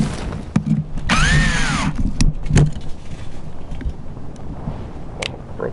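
A power drill whirs for about a second, its motor pitch rising and then falling, between scattered knocks and clatter, with no talking.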